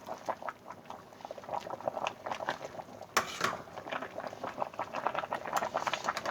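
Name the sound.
vegan lasagna filling cooking and being stirred in pot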